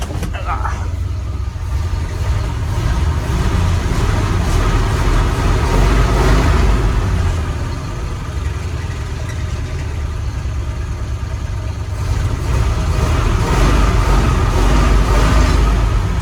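Tuned 1977 Ford F250 Custom truck engine idling, a steady low rumble running continuously at close range, with a faint voice briefly present.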